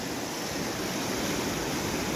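Floodwater flows during heavy rain in the Gir area, a steady, fairly faint rushing wash with no breaks.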